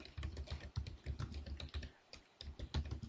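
Rapid keystrokes clatter on a computer keyboard, close and quiet, in quick uneven bursts with one brief pause midway, no voices present.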